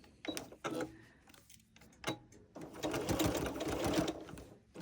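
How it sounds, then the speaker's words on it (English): Home sewing machine with a walking foot back-stitching binding onto a quilt, short whirring bursts of stitching separated by pauses, then a longer steady run, close and fairly quiet. "I use my walking foot to attach the binding to my quilt"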